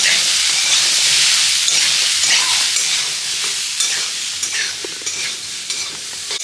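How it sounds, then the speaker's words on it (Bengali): Samosa filling with garam masala being stirred in a hot frying pan: a bright, close sizzle with scraping spoon strokes, gradually easing toward softer hissing and occasional clicks. "এটা সুন্দর করে নাড়াতে হবে এখন মাখা মাখা টাইপের করতে হবে যেহেতু সিঙ্গারার পুর এটা"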